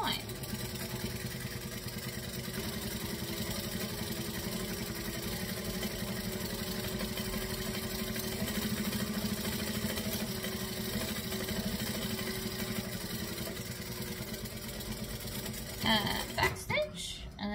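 A sewing machine stitches around a saddle bag with a continuous moderate motor hum that holds steady for most of the time, then stops with a few handling clatters at the end.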